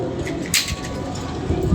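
Pigeons kept as a hobby coo nearby in a short burst of low, soft, rounded calls, mixed with some other background noise.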